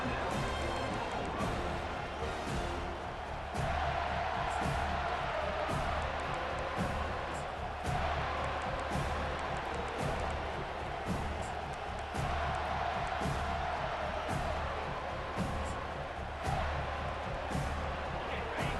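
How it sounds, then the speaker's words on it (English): Stadium crowd in the EA Sports College Football 25 video game, a steady loud roar of cheering fans with swelling surges, continuous throughout and without commentary over it. "This crowd trying to show them what it's going to be like all day in this house"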